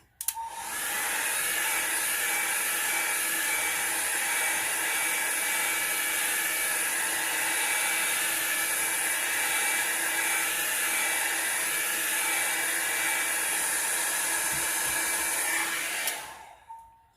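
A hair dryer or heat tool blows steadily on an alcohol ink card, a loud, even, close whooshing hum that runs unbroken for about fifteen seconds before switching off.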